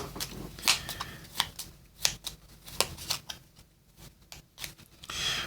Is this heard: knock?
no